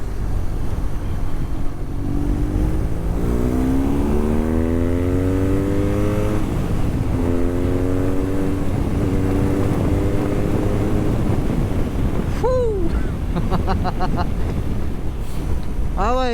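A 2023 BMW R nineT Pure A2 motorcycle accelerates hard through several gears, its engine note climbing in repeated rising sweeps, steady and close, with a few quick revving blips near the end.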